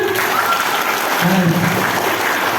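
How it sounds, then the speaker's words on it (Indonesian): Students at a motivational seminar clap their hands together, a dense, steady burst of group applause lasting the whole moment, with a voice speaking over it. "Yang suka mata pelajaran IPA tepuk tangan."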